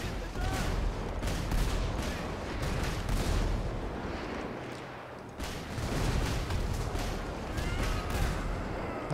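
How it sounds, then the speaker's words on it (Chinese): Dense bursts of gunfire and rumbling explosions fill a GTA 5 Red Dawn war mod battle, loud and continuous with repeated sharp reports, briefly easing midway before resuming. "连你的车一起炸了啦"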